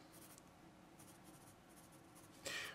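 An Apsara Absolute pencil scratches across paper in soft, quiet strokes, ending with a brief louder scrape near the end.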